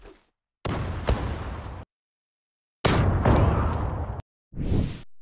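Grenades are thrown and explode in the Zula shooter game on the Safranbolu map: three separate loud blasts, each with a brief whoosh, split by silent gaps.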